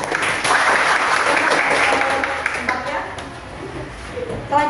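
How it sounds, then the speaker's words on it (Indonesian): A classroom group claps after a student presentation during a teaching practicum, sustained dense applause filling the room at moderate loudness with some voices mixed in. "Kita beri aplaus dulu."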